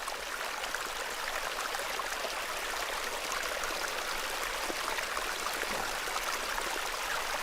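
Steady rush of flowing stream water in the video game Hob's Barrow, a continuous close, even babble of icy-cold water with no pauses or voices.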